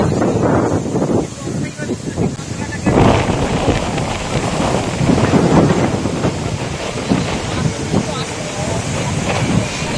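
Strong sea wind blows at Digha beach, a loud, continuous roar buffeting the microphone with gusts. A person speaks over it.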